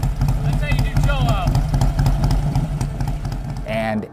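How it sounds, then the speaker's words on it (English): Harley-Davidson Twin Cam Softail engine with 574 cams idling after a cold start, a steady close-up rumble with only slight lope and mechanical clatter, while someone talks over it. "Now, cold start, there's not much lope."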